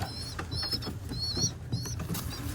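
Young squeaker pigeons in a loft give several short, high squeaky calls in close succession, fairly faint, with soft rustling and shuffling between them.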